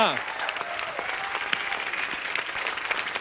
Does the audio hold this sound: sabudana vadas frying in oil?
no